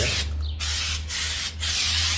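Carpex tire shine spray, bought in aerosol form, hisses onto a car tire in two or three short bursts of broadband spray, close and fairly loud over a steady low hum.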